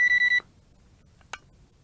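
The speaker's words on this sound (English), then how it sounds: "what was that beep?" A quick series of four sharp electronic beeps from a JJRC X19 Pro quadcopter drone controller, close and clear, followed by quiet and a faint click.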